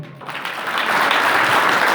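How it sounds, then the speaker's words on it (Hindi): An audience at an annual function claps together, and the applause swells from a lighter start into a dense, steady roar that lasts to the end. "ताली बजाओ।"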